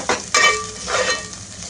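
Masala frying in oil in a pan for palak paneer hisses under a couple of brisk, close spatula scrapes, then settles into a softer sizzle.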